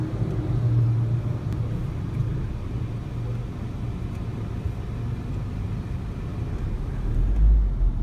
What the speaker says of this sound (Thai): ลองเชฟโคโด5เกียร์2005